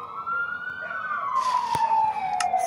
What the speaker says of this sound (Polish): Tam jakiś alarm jest. Karetki jeżdżą strasznie.